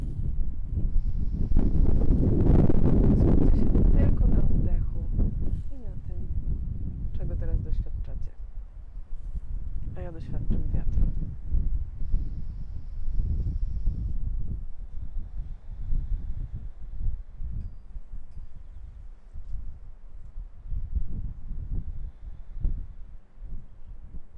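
Strong gusty wind buffets the microphone outdoors during a morning yoga session, with a deep low rumble, loudest early on, while a person talks intermittently.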